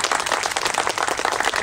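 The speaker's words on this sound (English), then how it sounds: "Give a big round of applause" A group at a taekwondo demonstration claps in a quick, dense patter, steady applause from several people close by, with no one speaking over it.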